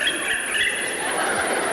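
A 1984 synthesizer produces an electronic imitation of crickets in a high-school demonstration: a steady, bright, buzzing chirr with high tonal whines, continuous and fairly loud throughout, with no voice over it.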